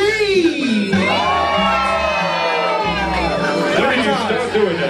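A loud crowd at a live music show cheers and screams together, a dense wall of excited voices with high whoops rising over the roar, sustained throughout.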